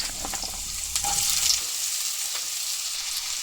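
Potatoes, onion and garlic fry in hot oil in a kadai, a soft close sizzle with a brief burst of stirring early on that settles into a steady hiss.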